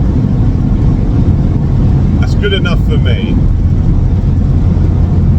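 A turbocharged Volkswagen Passat B3 engine roars under hard acceleration, loud and sustained throughout, while someone talks briefly over the noise.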